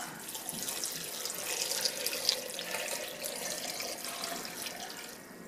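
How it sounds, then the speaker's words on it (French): Cold water runs from a tap into a cooking pot of vegetables for a vegetable soup, a steady, continuous hissing splash with no talk, holding fairly even in level for about five seconds before easing slightly at the end. "On va rajouter de l'eau froide."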